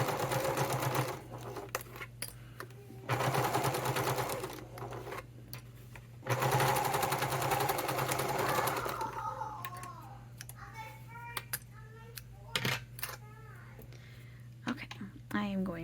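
A home sewing machine stitches through the thick layered seams of a fabric wallet with interfacing, running in several bursts of steady mechanical whirring separated by pauses, with quiet clicks and soft talk in the gaps.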